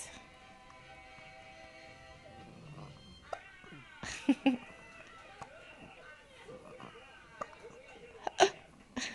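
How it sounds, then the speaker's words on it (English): Several short, sharp hiccup-like bursts from a young child, scattered irregularly over faint background noise and brief adult voice snippets, fairly close and moderately loud. "Hiccups."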